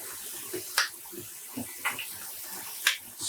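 Water splashes in a pan while dyed yarn is rinsed at home, a few short separate splashes and drips over a quiet background.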